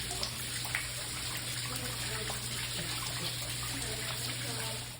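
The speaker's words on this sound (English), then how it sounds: "it was raining so hard and heavy that the water started leaking into our building" Rainwater pours and trickles down the stairwell of a building during a heavy storm, a steady, close, broadband rush of running water that holds even for the whole stretch, with a constant low hum underneath.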